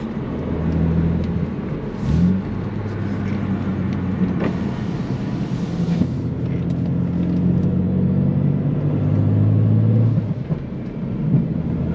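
A car engine, likely a BMW with an M54 or N54 engine, drones and revs steadily with pitch rising and falling between upshifts; the rumble is loud, close and continuous, with no talk over it.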